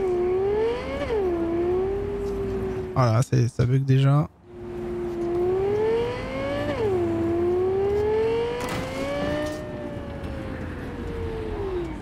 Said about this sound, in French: t'es monté dans la bagnole